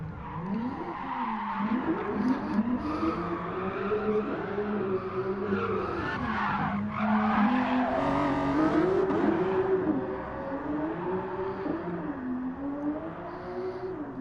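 In GT Sport at the Red Bull Ring, a car drifts with its engine revving and falling while its tires squeal in long, wavering screeches, loud and continuous throughout.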